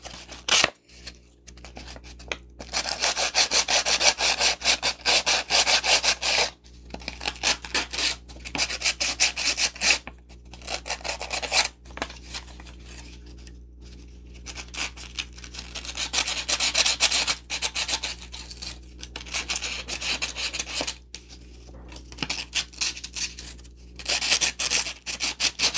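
A glass bottle being sanded by hand, working into its crevices: steady dry rasping strokes in long bursts separated by brief pauses, close and fairly loud, with no talking.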